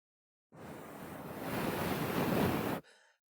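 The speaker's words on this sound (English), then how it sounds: "It's getting a bit windy over here." Outdoor wind gusts roar into a microphone, a sudden broadband rush that builds for about two seconds then cuts off abruptly, with a faint tail after.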